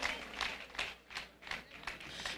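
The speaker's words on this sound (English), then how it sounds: "these people clapped so high" Audience clapping at a graduation ceremony at Uganda Technical College Bushenyi: a moderate crowd applauding in uneven, pulsing waves of bright, dense claps that swell and dip over a couple of seconds.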